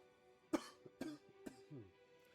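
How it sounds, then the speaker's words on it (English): Three sharp coughs from one person, spaced about half a second apart, close and fairly loud against a quiet background with a faint steady hum. "all of a sudden I need a cough"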